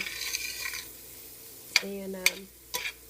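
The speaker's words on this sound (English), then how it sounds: "we're going to saute these onions until they are just a little translucent" Onions sautéing in a pan for chicken pot pie, a soft steady sizzle with a few sharp utensil clinks against the pan and brief stirring scrapes, close and fairly quiet.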